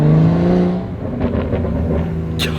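A BMW 435i fitted with VRSF catless downpipes revs close by, its engine note rising and falling in a loud, steady drone with no talking.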